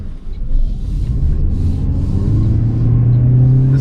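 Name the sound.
2023 Toyota Prius accelerating in sport mode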